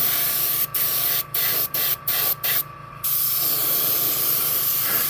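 An aerosol spray can hisses in short repeated bursts and then one longer pass, close and loud, as paint is applied to an HO scale Railbox 50-foot boxcar.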